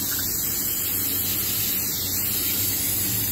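Brake cleaner sprays onto the parts of a 2010 GM 3.6 engine in a loud, continuous aerosol hiss that runs unbroken from start to finish, close by.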